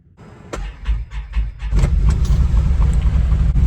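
A Can-Am off-road vehicle's engine turns over in the cold, catching after a few sputtering bursts and settling into a steady, loud, close idle.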